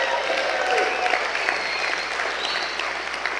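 Sustained applause from an awards celebration audience, a thick, even clatter of many hands, fairly loud and close, with faint murmurs mixed in.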